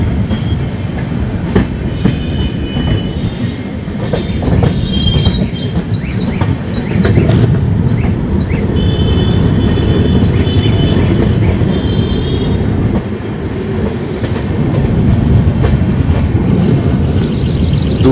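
Kolkata–Jaynagar weekly express train rolling slowly along the rails, a steady loud rumble of wheels with faint clacking and occasional high squeals, continuous throughout with no talk.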